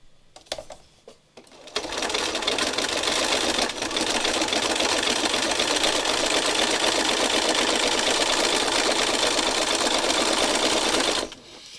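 A sewing machine stitches steadily over sticky metallic fabric paint, a fast, even mechanical whirr running nearly nonstop for about ten seconds after a brief start, close and fairly loud.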